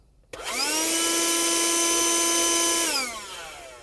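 A Bergmann Cyclonic 2-in-1 handheld car vacuum cleaner switches on abruptly, whines loudly at a steady pitch for a few seconds, then winds down as it is switched off.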